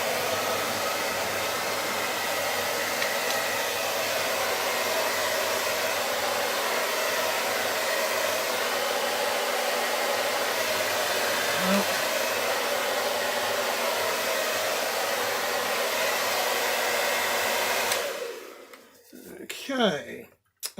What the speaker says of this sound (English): when I actually plugged the hairdryer in